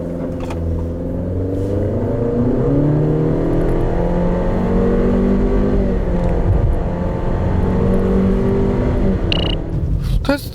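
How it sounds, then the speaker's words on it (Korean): A 2019 Honda CR-V turbo AWD accelerating hard from inside the cabin, engine and road noise loud and sustained with a rising whir, brief shift-like dips, and no talk. "2019년형 CR-V가 얼마만큼의 가속 성능을 낼 수 있는지 한번 확인해 보겠습니다."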